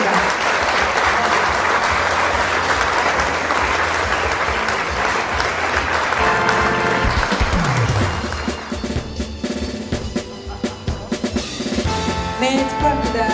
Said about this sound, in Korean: 여러분 축하의 박수 부탁드립니다.